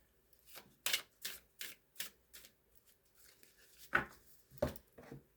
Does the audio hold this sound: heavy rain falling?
no